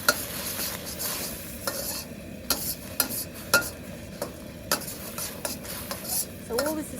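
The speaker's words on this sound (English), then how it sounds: "I'm going to do my eggs first." Pre-scrambled eggs cook in an outdoor Cuisinart wok while a utensil scrapes and stirs in repeated sharp strokes over a continuous close sizzle, with a few metallic clinks and no talking.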